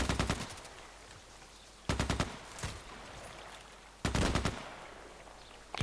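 Gunfire in the Contract Wars shooter, arriving as three short bursts of rapid automatic shots spaced a couple of seconds apart over a quiet background.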